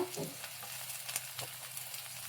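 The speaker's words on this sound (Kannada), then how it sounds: "ಗೋಲ್ಡನ್ ಬ್ರೌನ್ ಬರೋವರೆಗೂ ಈರುಳ್ಳಿನ ಫ್ರೈ ಮಾಡ್ಕೊಳ್ಳಿ, 1-2 ನಿಮಿಷ" Onions fry with curry leaves and dried red chillies in a pan, a steady low sizzle with faint crackles throughout, close and fairly quiet, with no talking.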